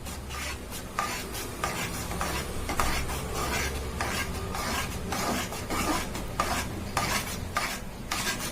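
Rice flour batter for idiyappam being stirred continuously in a pot on the stove, a steady scraping, rubbing rhythm of spoon against metal with a faint sizzle beneath, close and alone.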